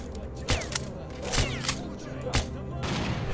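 Bursts of gunfire in the video game S.T.A.L.K.E.R.: Call of Pripyat crack out in short, sharp volleys, several shots spaced over a few seconds against a noisy background.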